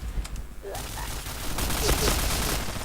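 Rapid bursts of Point Blank game gunfire crackle and pop continuously in a busy firefight, loud and dense, with a voice speaking over it.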